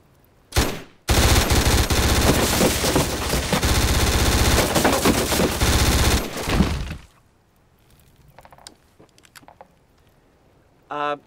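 A military weapon fires on automatic, a short burst followed by a loud, sustained roaring stream of rapid shots for about six seconds, then quiet with faint movement afterward.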